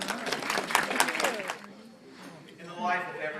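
Guests seated at banquet tables at a chapter installation dinner give a short round of applause, brisk clapping from the room that fades out before a speaker continues talking.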